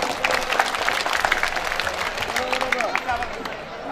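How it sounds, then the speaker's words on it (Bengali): An audience applauds at an honours ceremony during a high school and college reunion, dense clapping running for the whole stretch with a murmur of crowd voices beneath it. "সম্মাননা গ্রহণ আমরা করতালি দিব।"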